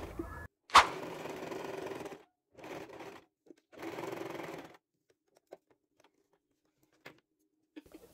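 Sewing machine stitching the sides of a fabric tote bag in short bursts, a few seconds of steady whirring, a pause, then more runs, followed by quiet clicks and handling.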